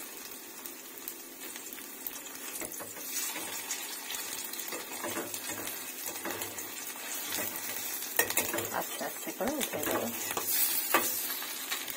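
Steady sizzling of sesame fritters frying in mustard oil, with occasional stirring and scraping, continuous throughout and close by.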